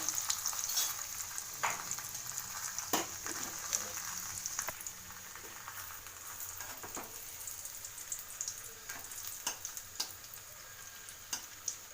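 Tiffin deep frying in hot oil, a dense close sizzling hiss with sharp pops and crackles bursting at irregular intervals, no one speaking.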